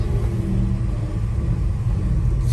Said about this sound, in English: it just spins up those back tires, and that's a roll-on